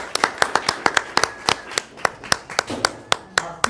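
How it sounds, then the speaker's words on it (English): Audience at a poetry slam clapping in a sharp, steady rhythmic beat, with distinct evenly spaced claps close and loud, and a few voices briefly underneath. "Feature time. That means clap."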